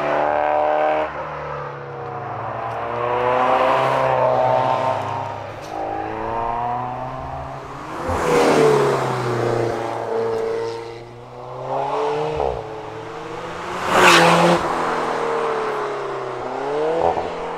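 Alfa Romeo 4C sports car engine revving and accelerating, rising and falling in pitch through several gear changes, loud and close, with no talk over it.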